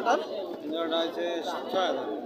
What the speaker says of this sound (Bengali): এটা কি কবুতর বিউটি হোমা এটা বিউটি হোমা ক্রোস নাকি